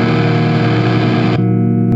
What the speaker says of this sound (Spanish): cuando le pongo la distorsión no suena más fuerte, parece que el sonido se comprimiera más